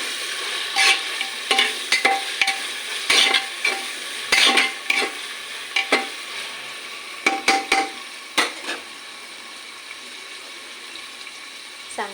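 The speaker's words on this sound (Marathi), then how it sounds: "कांदे पूर्ण लाल होईस्तोपर्यंत चांगले भाजून घ्यायचे।" Onions frying in hot oil in a pan for khichdi, with intermittent scraping strokes of a spoon stirring them, bursts of clatter separated by quieter sizzling.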